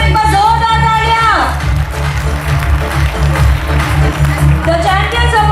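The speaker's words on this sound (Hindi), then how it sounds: "एक बार जोरदार तालियां।" An audience at a school annual function bursts into loud applause and cheers, a dense wash of clapping that swells in the middle while a voice carries over the start and end.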